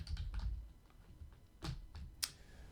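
Keystrokes on a computer keyboard while an HTML page is being written, a few scattered taps and clicks with quiet pauses between them, close and fairly soft.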